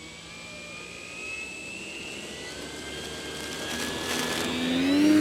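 The propeller of a Hangar9 Pawnee Brave model towplane drones steadily in flight with a thin, high whine, swelling slightly louder toward the end as the aircraft passes nearer.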